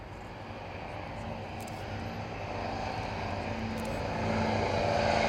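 A Vickers Vimy vintage biplane's propeller engines drone steadily and grow gradually louder as the aircraft approaches at an air display at Dunsfold, a broad continuous rumble with no talk.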